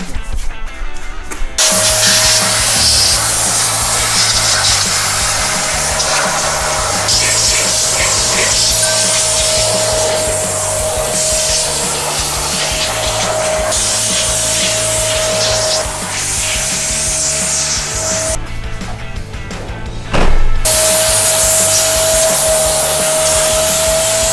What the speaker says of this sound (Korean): 다시 붓으로 구석들을 털어주고 걸레랑 이제 클리닝 작업을 한번 해주면은